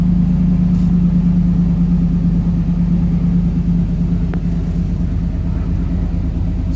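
Fuel-injected 302 V8 in a 1973 Ford Maverick restomod idles with a steady, deep rumble, close and loud, settling evenly with no revving and no talking.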